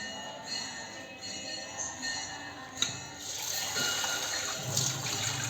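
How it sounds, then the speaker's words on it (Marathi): Lentils (dal) being washed in water make a continuous near slosh and trickle, with a brief clink and a louder rush of water toward the end. "मी हे दोन ते तीन पाण्याने मस्त स्वच्छ धुवून घेणार आहे डाळीला"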